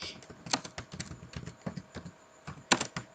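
Fingers type quickly on a computer keyboard, producing close, uneven bursts of crisp key taps with a louder clack near the end and no voices.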